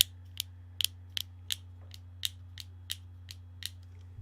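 A fidget cube's switch is pressed repeatedly, giving about ten sharp, light clicks at a fairly even pace, close and quiet over a steady low electrical hum.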